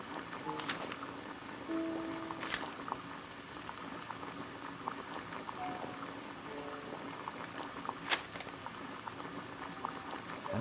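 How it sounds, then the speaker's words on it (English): Water boiling in a kettle on a gas burner in the Sherlock Holmes: The Devil's Daughter video game, a steady bubbling rumble with light pattering and occasional faint clinks, no speech. "Boil water in kettle."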